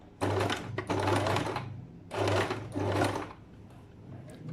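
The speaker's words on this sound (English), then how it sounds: "Begin sewing." A sewing machine top stitching trouser side pocket fabric, running in two close, steady bursts with a rapid mechanical hum and needle clatter, a short pause between them and a quiet stop at the end.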